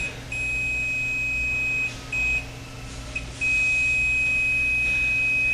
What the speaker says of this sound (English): The tone indicates we've got a good splice.